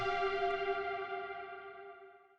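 Resampled synth tone turned into an ambient texture, a sustained harmonic chord swelling and slowly fading into a long reverb tail, heard alone with a washy, echoing quality in an electronic music production.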